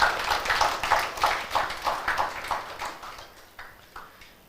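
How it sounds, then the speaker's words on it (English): An audience at a talk at Shankar's IAS Academy claps together, a dense, steady wash of hands with rhythmic pulses that thins out toward the end. "So, let us clap."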